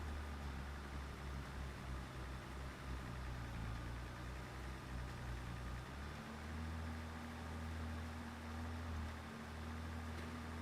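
A tractor engine idles in Farming Simulator 22, a steady low rumble that shifts pitch slightly partway through and carries on alone at a moderate level.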